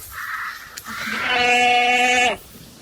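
A single drawn-out bleat rings out close by, preceded by a softer short call, then silence.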